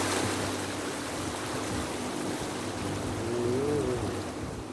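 River current rushing steadily past moored boats on a river, a continuous broad wash of flowing water with a low rumble underneath, fairly close and unbroken throughout.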